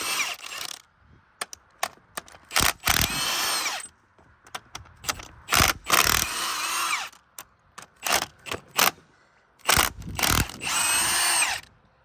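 Impact wrench removing head bolts from a diesel engine during a teardown: repeated short bursts of loud, rattling hammering separated by brief pauses, close and clear with no talking.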